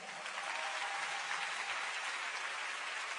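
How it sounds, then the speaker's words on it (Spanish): A concert audience claps for a bandoneon player after a song, a steady, fairly distant roar of applause with no voices over it. "Fuerte el aplauso."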